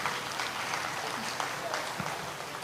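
Steady applause from a crowd fills the room, continuous clapping at moderate volume with no distinct individual claps standing out.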